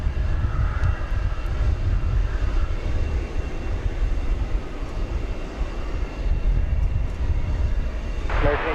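A jet airliner on approach to land on runway 18 right at DFW Airport, a steady broad engine roar holding loud throughout with a brief brighter surge near the end.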